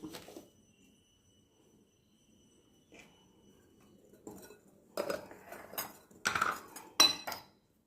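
Dry ingredients of flour, baking soda and salt being mixed in a bowl for parotta dough, heard as a quiet stretch followed by several clattering scrapes and clinks of hand or utensil against the bowl, close and fairly loud, with no speech.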